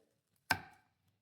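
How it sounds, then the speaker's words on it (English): A single sharp knife chop through an onion on a cutting board, close and brief, ringing off quickly into silence. "I'm going to, right quick, mince an onion"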